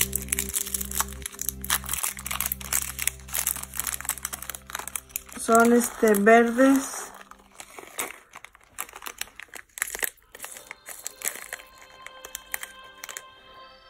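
Small green crystals rattle and clink close by as they are handled during a craft tutorial, with a dense crinkling patch midway and someone speaking in Spanish throughout.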